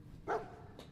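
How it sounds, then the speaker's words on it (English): A single short dog bark from Dogmeat, the canine companion in the video game Fallout 4, faint and sharp, with a softer yip near the end. "Well, dog meat seems eager for the job."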